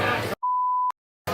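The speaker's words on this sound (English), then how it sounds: "Sorry it's beeps out there." A single clean electronic beep, loud and steady for about half a second, set between short bursts of noisy background sound outdoors.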